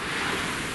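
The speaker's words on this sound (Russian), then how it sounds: "Мы на пляже Клеопатры." Sea surf washes steadily onto Cleopatra Beach in Alanya, Turkey, a brief, continuous hiss of breaking waves with some wind noise on the microphone.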